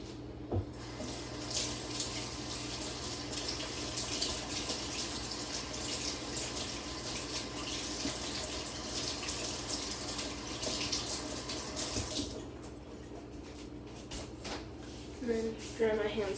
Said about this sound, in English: Stick it in the sink, and I'm going to wash my hands.